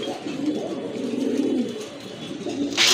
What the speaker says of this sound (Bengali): খুবই সুন্দর এক জোড়া কবুতর দেখেন আপনারা